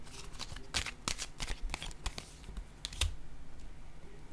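Tarot cards slide, flick and slap down onto a table in quick close bursts, a dense run of crisp papery snaps with brief pauses between them.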